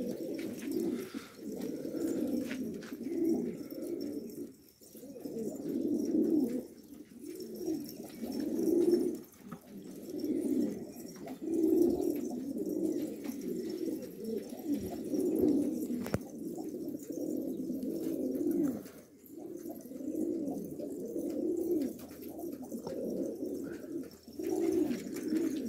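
Pigeons coo continuously in soft, low, rolling phrases with brief pauses, close by and fairly quiet, with no talking.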